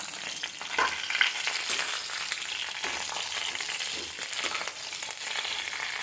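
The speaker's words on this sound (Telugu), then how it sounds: "మిరపకాయలు ధనియాలు కరివేపాకు బాగా వేగాలి వేగితేనే బాగుంటుంది" Dried red chillies, coriander seeds and curry leaves fry in hot oil with a steady bright sizzle and crackle, punctuated by occasional louder pops and stirring scrapes, close and continuous without any talking.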